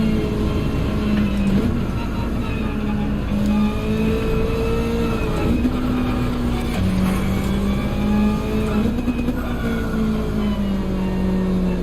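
A Gran Turismo 7 race car engine drones steadily and loudly, its pitch rising and falling slightly through gear changes, with no talking over it.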